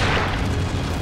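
A loud, dense explosion sound effect from Power Rangers Dino Fury fills the whole moment, a sustained rumbling blast with no break and no talking.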